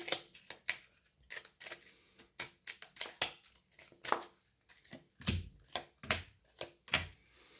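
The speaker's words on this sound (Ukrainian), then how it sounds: "давайте тепер для риб витягнемо три карти на тиждень" Crisp, rapid flicks and slaps of tarot cards being shuffled and drawn, an irregular rhythm of sharp papery snaps close by.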